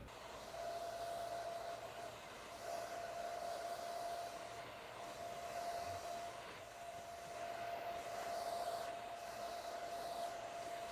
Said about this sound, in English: So let's blow dry this, and then we'll come right back to see what it looks like.